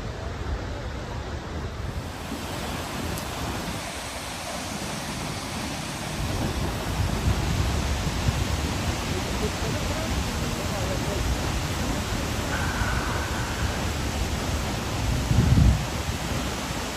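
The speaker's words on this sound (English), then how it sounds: "It's a beautiful waterfall." A waterfall on Iceland's south coast roars as a steady, broad wash of rushing water, loud and constant, with wind buffeting the microphone at times.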